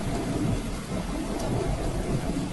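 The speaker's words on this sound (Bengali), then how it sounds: "সকাল থেকে বৃষ্টি ঝরেই চলেছে শ্রাবণের ধারার মতো।" Steady rain pours down with a low rumble of thunder rolling underneath, a dense, continuous wash of sound throughout the short stretch with no voices.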